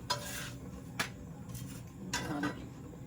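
A metal spoon scrapes semolina out of a cooking pot in a home kitchen, giving a few short, close scraping and clinking strokes spread across the moment, with no talking.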